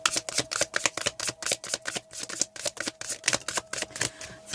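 Tarot cards are shuffled by hand in quick, rhythmic bursts of crisp papery riffling, close and fairly quiet, with no voice over them.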